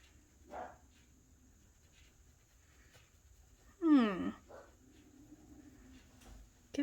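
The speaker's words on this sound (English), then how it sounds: "if you can hear my dog, she's just growling at something" A pet dog growls indoors, one brief rough vocal burst near the middle with faint sounds from the dog at the start and end, all soft and at a little distance in a quiet room.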